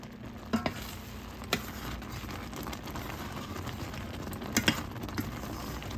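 Cranberry sauce, a doubled batch, bubbling in a pot at a steady boil: a soft continuous sizzle and simmer with a few sharp clinks of a spoon stirring against the pot, close and moderately quiet, no voices.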